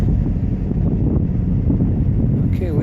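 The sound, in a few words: wind blowing outdoors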